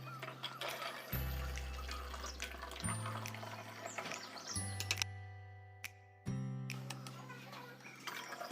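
Coconut water, mixed with soil for a homemade liquid organic fertilizer, pours into a container in several long, steady streams with short pauses between them, close and fairly soft.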